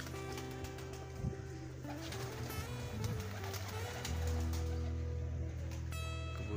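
Rampuri high-flyer pigeons in a village loft in cold weather coo repeatedly in soft, low, throaty tones, with some faint chirps over a constant background hiss.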